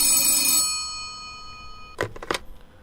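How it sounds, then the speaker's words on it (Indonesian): An old-style telephone bell rings with a bright metallic trill that stops abruptly, followed by a few clunky handling knocks and clicks in a quiet room. "Dan ketika itulah telepon berdering."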